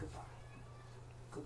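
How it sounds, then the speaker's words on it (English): A pet cat meows faintly indoors, short calls that overlap with a quiet voice saying a single word, all low in level against a steady background hum. "that's our cat realising we're both in the room and wanting it in on the action"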